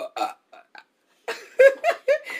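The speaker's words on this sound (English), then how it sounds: "I can give you a real burp." Several short voiced burps from a person during a playful burping challenge, a few small ones followed by a louder, longer series of close, gurgling belches.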